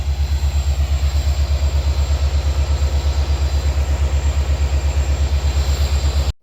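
The diesel locomotive of train 16362 idles and runs nearby with a heavy, steady low throb pulsing in a fast regular rhythm, loud and continuous, with no talking.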